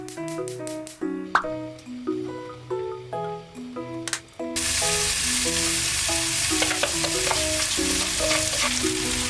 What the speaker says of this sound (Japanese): 野菜切り終わったんで炒めていきます。